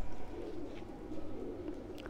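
Kasuri golden pigeons, large breeding pairs among a mixed lot for sale, coo in low continuous murmurs that overlap throughout, with faint distant chirps on top.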